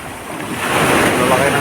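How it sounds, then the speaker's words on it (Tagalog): Rough sea at the shore, with big waves surging and wind buffeting the microphone in a loud continuous wash that swells toward the end. "Ang lalaki ng alon."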